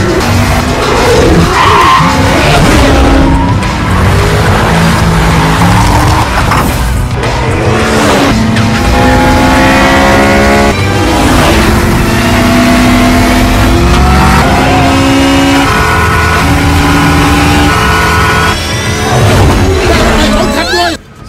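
A Mitsubishi races an American muscle car in a film street-race scene. Continuous loud engine roar and screeching, skidding tires fill the scene, with layered revving pitches and voices mixed in.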